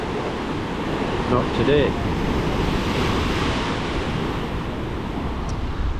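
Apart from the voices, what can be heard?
rough sea waves on the Adriatic coast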